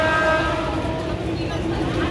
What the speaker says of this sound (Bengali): এখন ট্রেন ঢুকছে, ট্রেনে উঠবো।